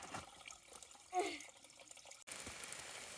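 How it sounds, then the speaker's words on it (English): Water being filtered beside a mountain hiking trail in Virginia, a faint steady trickle and splash of flowing water with a brief louder gurgle, quiet outdoor background. "we are here filtering water"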